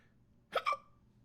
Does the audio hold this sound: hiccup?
yes